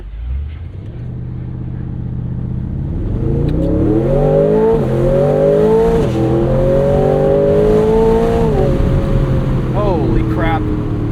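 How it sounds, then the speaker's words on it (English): A 2026 Aston Martin Vantage S roadster with a 670 hp V8 launches from a race start, its loud engine roar climbing steadily through the gears with brief dips at each upshift. "let's stop and do a race start"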